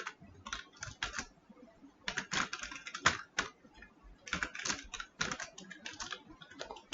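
Quick clicking keystrokes on a computer keyboard as a JavaScript console.log command is typed into a browser console, close and steady, in short irregular bursts with brief pauses.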